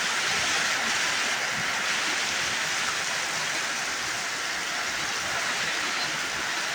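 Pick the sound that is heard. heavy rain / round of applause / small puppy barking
heavy rain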